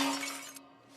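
Drinking glasses break in a restaurant, a brief bright crash of shattering glass that quickly fades to quiet.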